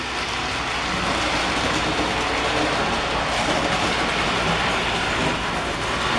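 A model railway train runs steadily along its track, a continuous close rumble with faint clicking from the rails that holds an even level the whole time, with no voices over it.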